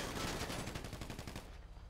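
Burst of automatic gunfire during a bank robbery in a roleplay video game, a quick rattling string of shots that stops abruptly, fairly faint and distant-sounding.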